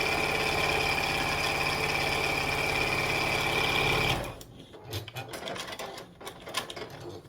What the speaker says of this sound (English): We're going to chain piece this 4 little blocks together.